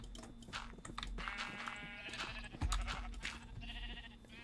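Sheep bleating in a video game, several wavering artificial bleats overlapping over a low rhythmic game backdrop, fairly close and clear for a few seconds.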